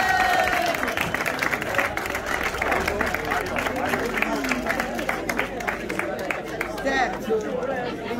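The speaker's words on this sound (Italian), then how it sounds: "Applauso" Sustained applause and chatter from a crowd at an amateur cycling race prize ceremony in Lonate Ceppino, steady clapping mixed with voices and a public-address announcer speaking.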